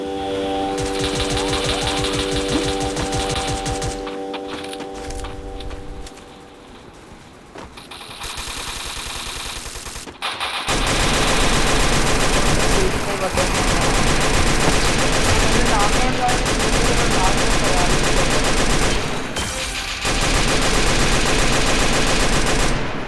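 Gunfire in the final fight of a video game, dense rapid bursts of loud automatic fire and explosions with engine-like droning, a short lull midway, then sustained heavy shooting.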